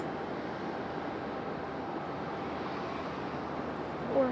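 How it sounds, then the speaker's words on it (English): A CRJ regional jet arriving at Raleigh-Durham International Airport, a steady distant broadband roar of jet engines holding at an even level, no talk. "Got another arrival. Looks like a CRJ."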